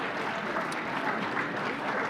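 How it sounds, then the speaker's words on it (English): Steady, even applause from a gala audience at the Wilkes County Hall of Fame, a continuous wash of many hands clapping at moderate distance, with no talk over it. "A round of applause."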